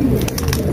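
Pigeons cooing close by, a couple of soft throaty coos in quick succession over a low background murmur.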